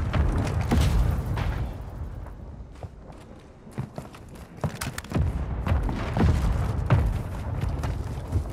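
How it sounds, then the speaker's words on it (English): Mortar strike explosions in Call of Duty Warzone 2 on the Ashika map, heard as repeated booms and sharp impacts with rumbling debris over a dense, noisy battlefield background. "Hostile mortar strike in the area"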